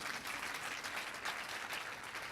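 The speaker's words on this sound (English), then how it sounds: "Another round of applause, please." Audience at a World Bank annual meetings session keeps up a steady round of applause, fairly distant and even throughout.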